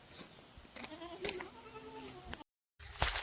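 Sheep and lambs bleat at close range, several wavering calls overlapping through the first two seconds, then a short break and another louder burst of sound.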